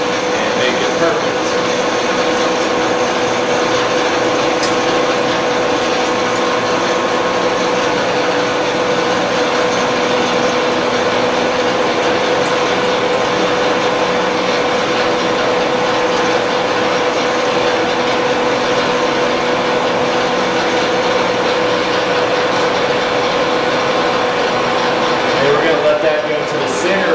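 A lathe cutting tool faces off the rough bandsaw-cut end of a barrel, giving a steady machining hiss and faint whine that continues evenly for the whole stretch, with no break.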